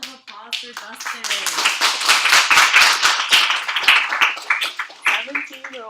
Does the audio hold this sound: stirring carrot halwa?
no